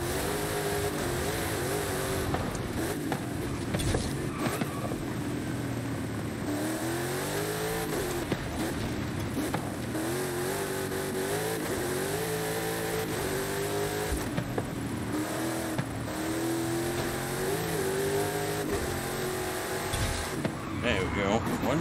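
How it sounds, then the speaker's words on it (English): A 2010 Mosler MT900S races in Forza Horizon 5, its engine revving up and down through repeated gear changes with occasional tire squeal, someone talking over it. "the car I was using was the 2010 Mosler MT900S"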